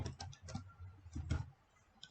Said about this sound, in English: over here you can type your custom characters